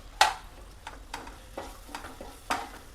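Red chilli powder, coriander-cumin powder, sabzi masala and Maggi masala sautéed in a pan for a quick vegetable curry, with a few sharp stirring scrapes over a low, faint sizzle.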